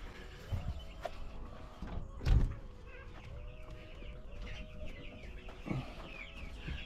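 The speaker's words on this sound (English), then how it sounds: "So this is our chick house. As you can see, these chicks are getting their feathers." Young feathering chicks in a chick house on a cattle farm, with soft clucking and chirping at a moderate distance under a steady background hum, plus a brief louder thump around the middle.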